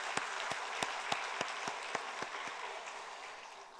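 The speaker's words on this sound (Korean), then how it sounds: "박수로 축복하겠습니다" Congregation in a church clapping together in a brief, fairly faint burst of applause during a worship service, with a few sharper individual claps standing out before it gradually fades.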